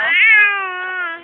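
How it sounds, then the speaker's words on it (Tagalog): A cat lets out a single loud, drawn-out meow, close and clear, rising slightly and then holding steady for about a second with nothing else audible. "Ang ingay yun. Parang pusa lang."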